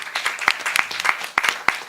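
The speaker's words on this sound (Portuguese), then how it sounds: "Que eu peço uma salva de palmas para ele." A small audience at an opening session applauds, sparse and uneven clapping with a few sharp, distinct hand claps standing out close by.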